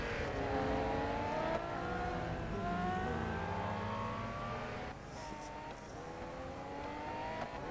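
Ferrari Enzo engine in the racing game Real Racing 3 on iPad, a steady loud engine roar with rising and falling rev tones as it accelerates through gears, continuous throughout with no talking.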